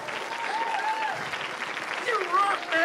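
Live audience at a magic comedy podcast applauding: steady, dense clapping from a crowd that lasts the whole moment, with voices talking over the applause.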